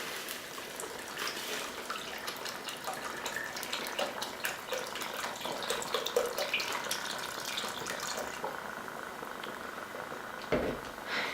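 Stock poured into a pot of paleo pumpkin chili makes a steady splashing, trickling stream, close and moderately loud, followed by a brief clunk near the end.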